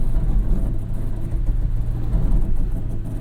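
Ford Maverick engine pulls steadily under gentle throttle while recovering a stuck Toyota Tacoma TRD Pro, a continuous low rumble holding at an even level throughout.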